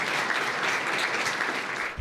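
A big round of applause at a Legislative Council luncheon in Hong Kong, dense steady clapping from a room full of lawmakers, continuous and fairly loud throughout, with no talk over it.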